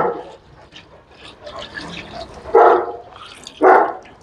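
A Bully breed dog barks twice, loud and close, about a second apart, after a stretch of quieter background noise.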